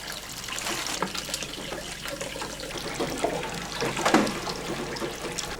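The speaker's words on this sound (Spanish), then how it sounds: "Un recipiente recoge el flujo de agua y aceite entremezclados" Water and olive oil pour from a press into a container at a traditional family mill worked by animal power, making a steady, continuous trickling flow that stays close and even throughout with no voices.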